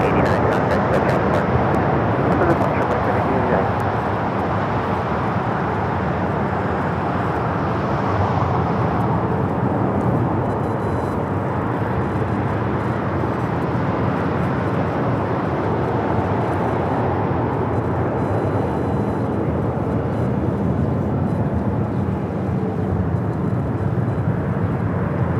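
A Qantas Airbus A380 takes off from LAX for Sydney, its engines producing a dense, continuous broadband roar that stays loud and steady throughout, with faint voices under it.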